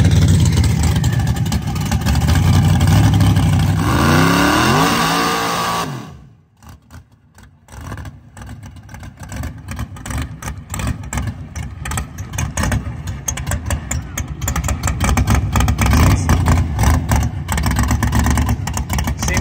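A Corvette at a grudge drag race night in Mexico runs rough, a loud, close engine that drones, then cuts out sharply, and comes back with an uneven, stumbling, popping idle that builds again.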